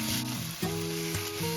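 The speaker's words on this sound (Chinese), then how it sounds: "热锅下油，倒入牛肉摊平，大火把牛肉一面煎金黄" Beef spread flat in a hot oiled pan sizzles steadily over high heat, a continuous frying hiss that sits beneath prominent background music throughout.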